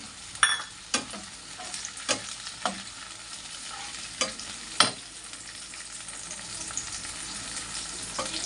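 Ginger garlic paste fries in a pan with a soft continuous sizzle. A spoon scrapes and stirs it in a series of sharp clacks, and no one speaks.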